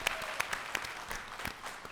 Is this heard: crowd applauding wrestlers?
yes